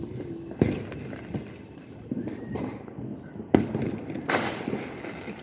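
Firecrackers set off during Diwali celebrations, heard as a few sharp bangs and pops scattered through the clip over a busy outdoor background, with people murmuring nearby.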